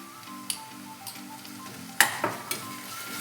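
Ginger garlic paste sautéing in a pan for a double beans kurma, a soft low sizzle with a faint steady hum, broken by a few sharp spoon taps and scrapes against the pan.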